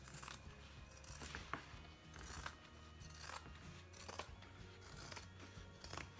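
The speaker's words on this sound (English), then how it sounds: "I will just trim down along the main seams" Scissors trim along the main seams of a fabric tic-tac-toe play mat, making repeated crisp snips at an irregular pace, close by and moderately quiet, with no talking.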